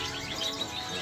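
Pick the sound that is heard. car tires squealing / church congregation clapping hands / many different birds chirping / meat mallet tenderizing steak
many different birds chirping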